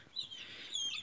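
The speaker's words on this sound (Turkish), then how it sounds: "Şu an burada 70 kadar civciv var." High, continuous peeping from a group of about seventy newly hatched chicken chicks, soft and steady throughout.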